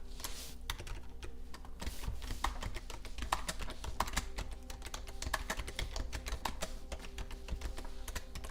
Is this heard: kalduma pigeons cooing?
no